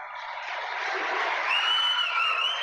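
A crowd at a high school boys basketball game, Central at Teutopolis, cheers and applauds after a three-pointer, a sustained roar that swells toward the end with a few shrill whistles or shouts rising above it.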